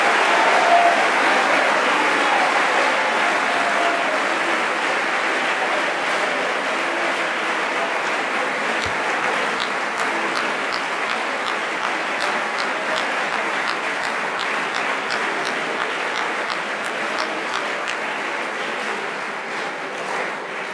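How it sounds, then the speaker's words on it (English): A crowd at an awards convocation applauds steadily for the full stretch, a dense, even wash of clapping with no talk over it and only a slight easing toward the end. "please just give a round of applause"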